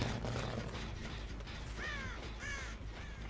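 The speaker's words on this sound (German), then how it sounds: "Hier ist ein Rabe aufgeflogen." Several raven caws ring out in the horror video game Dead by Daylight, three rising hoarse calls over a steady dark ambient drone, moderately close and unaccompanied by talk.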